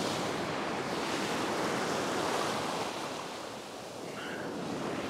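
Half-metre ocean waves breaking on a beach while surf fishing, a steady broadband wash of surf with mild wind noise, fairly constant with a slight dip near the end and no talking.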